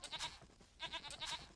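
Sheep in a strategy video game bleat twice in quick succession, close and clear, with no talking.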